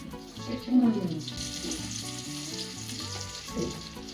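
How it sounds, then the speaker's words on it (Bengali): Onions fry in a pan for a home-cooked dish, giving a steady, fairly loud sizzle that swells briefly near the start, with tonal background sounds running underneath. "এখানে পেঁয়াজ ভাজা চলছে"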